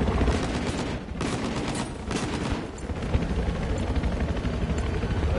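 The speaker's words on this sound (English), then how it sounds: "I've spotted a hostile helicopter due west of your current" In the video game Battlefield, a helicopter's rotor drones through a busy battle soundscape, partly buried under rapid bursts of gunfire and distant booms that continue throughout.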